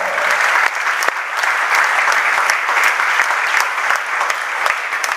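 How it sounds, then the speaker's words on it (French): Church congregation at a sermon breaking into sustained loud applause, dense steady clapping throughout with a few sharper claps standing out. "Applaudissez Jésus-Christ"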